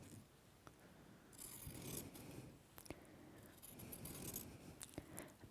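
Pinking shears cutting along a fabric seam allowance, faint close-up snipping and crunching cuts repeated in a loose rhythm, with soft rustling of cloth between them.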